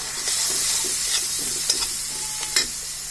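Soy sauce hits a hot pan of chowmein noodles and sizzles steadily, with a few louder stirring scrapes and splutters near the end. The sound is close by and continuous, with no voices.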